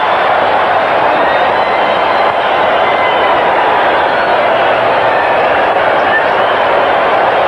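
Dense, steady roar of a packed football stadium crowd cheering after an interception in a 1981 Patriots–Jets game, loud and continuous throughout with no letup.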